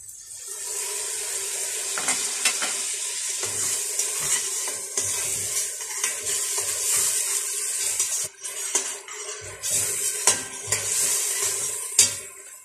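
Masoor dal masala with tomatoes sizzles in a pan after a splash of water, a bright continuous frying hiss broken by repeated scraping stir strokes, close and fairly loud with no talking.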